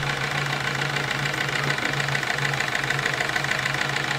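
A homemade twin-cylinder steam engine runs on live steam with a steady, close mechanical chuffing and knocking hum that is continuous and even throughout, with no voices.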